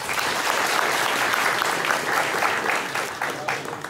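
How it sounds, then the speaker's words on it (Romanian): Wedding guests applaud during a blessing at a wedding reception, dense sustained clapping from a room full of people that fades slightly toward the end. "Hai să aplaudăm."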